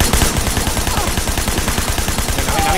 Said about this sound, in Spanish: Venga, ahí disparando sin soltar el gatillo.